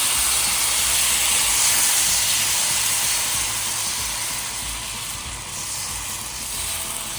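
Rice batter for ghavne sizzles on a hot, newly bought pan. The hiss is close, loud and continuous and fades slightly toward the end, with no voices.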